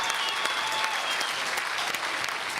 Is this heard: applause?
yes